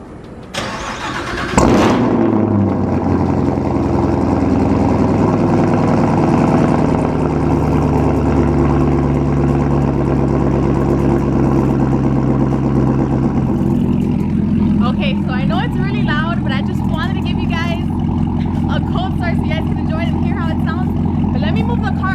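A Camaro ZL1 1LE cold starts with a sharp crank and loud bark, then settles into a deep, steady, rumbling high idle that continues for about twenty seconds, close up, with faint sounds of someone moving about in the later part.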